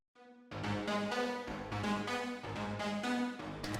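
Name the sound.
synth lead with vintage reverb, bright, slightly distorted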